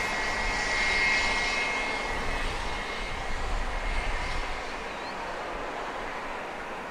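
An aircraft engine drones steadily at Owen Roberts International Airport on Grand Cayman, a broad, moderately loud roar heard from a distance that swells slightly early on and then holds, with no talking.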